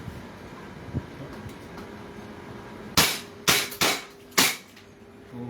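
Airsoft pistol firing four sharp, loud cracks in quick succession after a quieter stretch of low handling noise and faint clicks.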